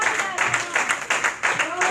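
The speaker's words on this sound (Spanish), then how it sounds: "¿Cuánto dan ese aplauso al Señor Jesucristo?" Church congregation clapping in a rhythmic, pulsing pattern, moderately loud bursts repeating about every half second while a voice carries over the top.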